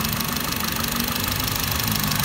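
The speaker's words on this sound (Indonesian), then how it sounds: "Coba nyalain mesinnya. Langsung lancar. Mesinnya masih halus" A 2014 Honda Brio E Satya manual hatchback's engine running at idle, a steady, even low hum with a faint rhythmic pulse, continuous and close with no voices.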